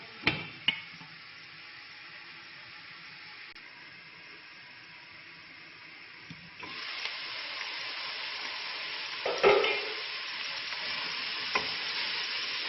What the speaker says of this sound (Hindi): वेजिटेबल्स को मैं फ्राई कर लूँगी ताकि ये अच्छे से गल जाएं।